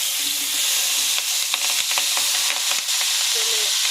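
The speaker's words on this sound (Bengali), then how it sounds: "তেলে দিয়ে দিলাম আস্তে আস্তে ওটা ভাজা হতে থাকবে" Oil sizzles steadily as onions and chilies fry in a pan, with a few soft clinks and scrapes of a spoon stirring.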